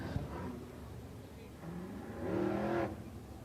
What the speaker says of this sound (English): No panic, Davey Franick, the number 28F, coming out on the racetrack